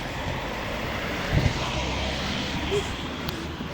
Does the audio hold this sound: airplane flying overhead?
yes